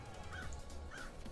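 Two harsh caws from crows in the video game Paradise Killer, spaced about half a second apart over a low steady background hum, no talking.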